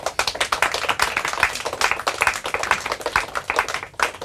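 An audience claps for two teams tied on points during a quiz-style game, with distinct, fairly close hand claps in an uneven, lively patter throughout.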